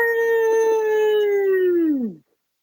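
A person imitates a hound dog's howl, one long sustained mournful wail that slides downward in pitch before stopping abruptly.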